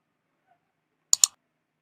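Two quick, crisp computer mouse clicks sound close together in an otherwise silent room, a right click made to save an image.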